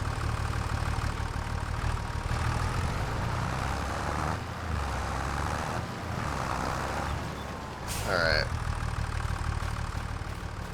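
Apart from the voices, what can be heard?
tractor engine idling in video game Farming Simulator 25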